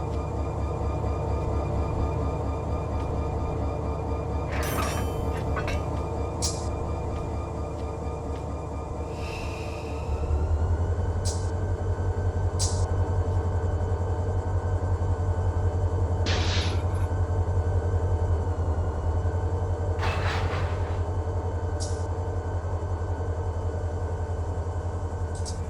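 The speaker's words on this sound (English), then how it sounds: "this was actually a mixed intermodal train, so it's got containers on the back half, but it also has auto racks on the front half" Freight train rumbling in Run 8 Train Simulator, a mixed intermodal consist with auto racks up front and containers behind, heard as a steady low drone that deepens partway through, with scattered clanks and squeals.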